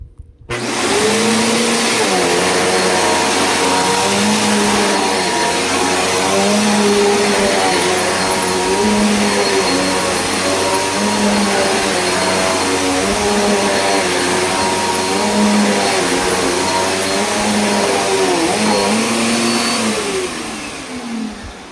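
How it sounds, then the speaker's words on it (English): A Bissell Powerforce Helix Turbo vacuum cleaner runs close and loud with a steady motor drone and a rhythmic, wavering pitch as it is pushed back and forth, stopping at the end. "Anyways, let's run the Bissell."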